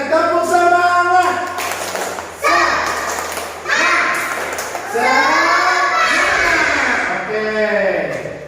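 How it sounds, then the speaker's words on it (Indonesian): A class doing a rhythmic spirit clap (tepuk semangat), sharp claps in patterned bursts mixed with loud children's voices and a teacher talking throughout. "Tepuk semangat sama-sama, ya."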